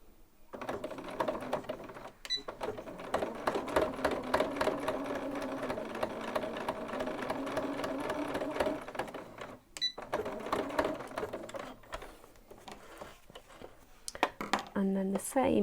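A sewing machine runs a small straight stitch at a short stitch length while buttonholing by hand, a steady mechanical whirring with brief pauses, voice talking over parts of it.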